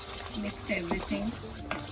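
Tomato and onion masala being stirred in a pan for paneer butter masala, with a few short scraping strokes over a soft sizzle, close and brief.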